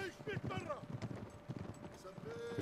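Horse hooves clip-clop in quick, uneven beats in the Sahara desert setting of the video game Uncharted: Drake's Deception, close and moderately loud, with someone talking over them.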